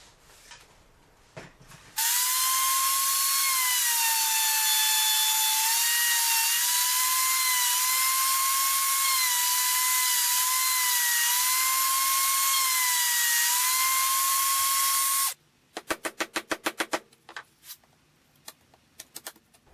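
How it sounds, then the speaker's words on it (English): A wood router fitted with a straight cut bit routes a T-slot in wood, guided straight by boards attached to a tapering jig, giving a loud, steady, high whine for about thirteen seconds, with brief clatter before and after. "This way it'll help guide the router straight."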